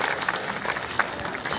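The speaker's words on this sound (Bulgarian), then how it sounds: "Още веднъж аплодисменти за нейното изпълнение." A crowd applauds a young girl's performance at a civic ceremony in Kyustendil, a brief, moderately loud burst of mixed clapping heard from within the audience.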